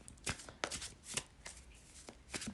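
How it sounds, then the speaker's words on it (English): Tarot cards being shuffled in quick bursts, several crisp riffling flurries separated by short pauses, close and fairly quiet with no voices. "I did not mean to just shuffle that"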